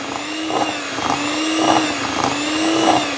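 An electric hand mixer whirs steadily through yogurt cake batter, a continuous motor hum with slight rhythmic pulses as the beaters move through the bowl, close and fairly loud, with no talking.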